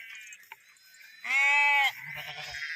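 A single sheep bleats once, a wavering nasal cry lasting about half a second, with faint outdoor background sounds before and after.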